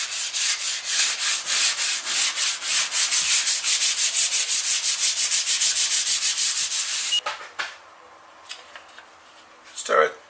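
Rhythmic hand sanding of a metal car body panel with sandpaper, about seven seconds of regular back-and-forth rasping strokes, loud and close, then stopping and giving way to a few light taps and handling noises.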